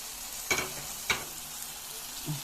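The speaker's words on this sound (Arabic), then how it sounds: "هنحط بقى ايه الكبد بتاعتهم اهي، هنشوحهم فيها" Pigeon livers sauté in a pan with onion, a low steady sizzle with two distinct scraping stirs early on and a softer one near the end, close and quiet.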